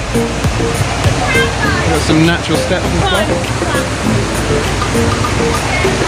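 River water rushes steadily through Saklikent gorge in Turkey, a loud, close, continuous roar from a knee-deep stream with small falls and steps, while a voice talks over it.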